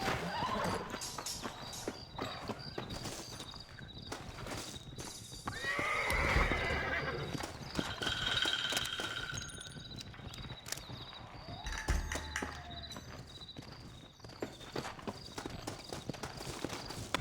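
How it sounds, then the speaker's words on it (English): Horses in the Red Dead Redemption video game walk with steady clip-clopping hooves and let out several loud whinnies, with faint voices and background game sounds underneath. "Looks like Carlos left us some horses."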